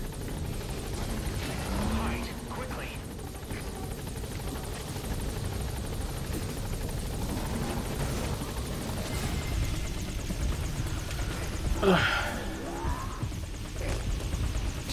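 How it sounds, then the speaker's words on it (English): A helicopter comes in to land in the Metal Gear Solid V game, its rotor and engine a loud continuous roar for the whole stretch, with a few sharper bursts over the top. "This chopper better fucking land this time."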